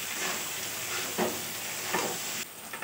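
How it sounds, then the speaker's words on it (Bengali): Ginger paste sautéing in a pan gives a steady close sizzle, with two soft scrapes of a stirring spoon and no talking. "আদা বাটা দিয়ে কিছুক্ষণ কষিয়ে নেব"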